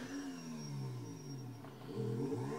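A motorcycle engine revs steadily through a video game wheelie, a close mid-pitched drone with rising and falling harmonics that swells louder near the end.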